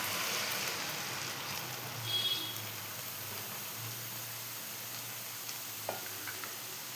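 Orange juice poured into hot caramelised sugar for an orange cake, giving a soft, steady hissing sizzle, fairly faint, with a brief swell near the start and a small clink later.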